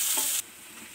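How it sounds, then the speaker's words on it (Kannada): Two large finely chopped onions frying in a pan, a brief loud sizzle that drops abruptly to a quieter, softer hiss. "ಇದನ್ನು ಚೆನ್ನಾಗಿ ಫ್ರೈ ಮಾಡ್ಕೊಳ್ಳೋಣ"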